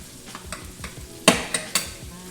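Roger Wood sausages cook in a skillet, a low sizzle punctuated by a series of rhythmic clatters and scrapes as a utensil knocks and pushes them around the pan.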